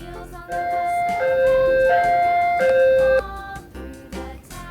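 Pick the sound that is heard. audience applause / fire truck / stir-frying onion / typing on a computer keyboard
fire truck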